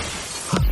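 Window glass shatters in a sudden crash near the end as someone breaks out through it, a brief loud burst after steady background noise.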